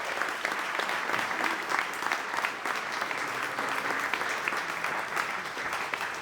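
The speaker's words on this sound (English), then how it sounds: "give yourself a round of applause" An audience at a Spanish Fork chamber of commerce awards gala claps in a steady, dense round of applause lasting several seconds, heard from a moderate distance at even volume.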